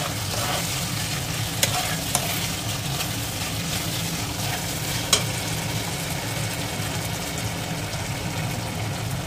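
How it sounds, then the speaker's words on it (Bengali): Fried chicken is stirred with Schezwan sauce in a pan, a steady frying sizzle with the scrape of a spatula and a few sharp clicks against the pan, no talk. "ফ্রাইড চিকেনটা দিয়ে দেওয়ার পর একটু ভালোভাবে নেড়ে চেড়ে দিলাম।"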